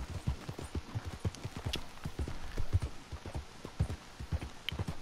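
Horse hooves clip-clop in a steady galloping rhythm while riding in Red Dead Redemption 2, each beat sharp and close over a low background.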